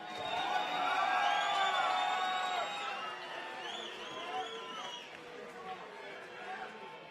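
Arena crowd at a boxing co-main event, Gonzalez vs McKinney, roars and cheers loudly for several seconds with whoops and chatter, swelling early and easing off but staying dense throughout.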